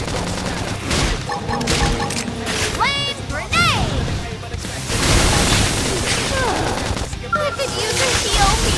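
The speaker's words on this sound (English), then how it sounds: "Flame grenade!" A flame grenade detonates in Xenoblade Chronicles X: Definitive Edition combat, one of several loud bursts and booms amid continuous battle noise, with voices and effects layered over the clash throughout.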